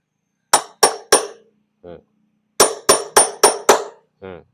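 A wheel bearing is hammered into place using a homemade welded driver tool, with sharp metallic strikes in two bursts: three quick blows, a pause, then five evenly spaced blows, all loud and close.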